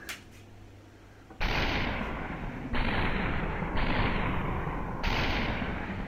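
Minigun fire in the VR game SUPERHOT VR: after a quiet start, long sustained bursts of rapid gunfire roar in, stopping briefly and resuming several times, loud and close.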